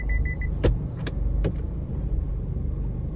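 A 2017 Chevrolet Trailblazer idles with a low, steady engine rumble after being shifted into D. A faint beeping and a few sharp clicks come from inside the cabin before the vehicle pulls away, and no one speaks.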